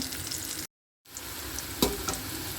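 Pieces of taro (kochur mukhi) fry in a pan with a soft, steady sizzle and light stirring, broken by a short silent gap, then resuming with a brief louder clatter.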